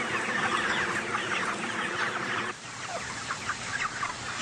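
A flock of chickens in a farm shed clucks continuously, a dense, busy chorus of overlapping calls with a brief dip partway through before resuming.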